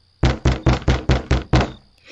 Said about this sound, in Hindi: तब वो जोर जोर से दरवाज़ा पीटने लगे।